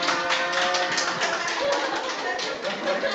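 Audience in a church service clapping during a gift presentation, a continuous, fairly close round of applause lasting a few seconds with voices faintly mixed in.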